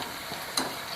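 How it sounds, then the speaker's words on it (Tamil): Chicken kebab pieces fry in hot oil with a steady low sizzle, stirred once with a brief scraping clatter near the middle; close and fairly quiet, no voices. "நம்ம எண்ணெயில் போட்டு ஒரு 2லேருந்து 3 நிமிஷம் வரைக்கும் நம்ம கிளறி விட்டுக்கிட்டே இருக்கலாம்"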